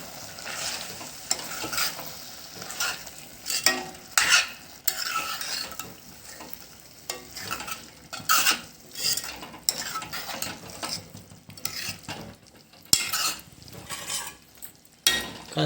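A spatula stirs fresh goat liver curry with fenugreek and coriander leaves in a pan: irregular scraping and clinking strokes over a constant low sizzle, heard close with no voices.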